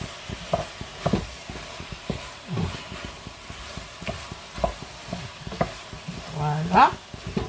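Flour being stirred into beef and onions in a hot pot, with repeated scraping strokes of a spoon over a soft, steady sizzle close by.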